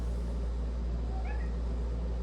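Pet cats meowing once, a short faint call over a loud steady low hum and background noise.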